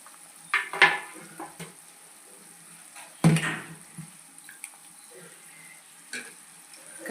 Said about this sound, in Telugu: కాలీఫ్లవర్, బంగాళదుంపలు వేసేసుకోవాలండి. బాగా కలుపుకోవాలండి.